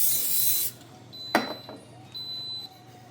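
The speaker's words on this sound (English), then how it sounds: "I'm going to spray the inside." A short hissing burst of cooking oil spray inside an Instant Pot lasts under a second, followed by a sharp metallic clank and a few quieter knocks inside the pot.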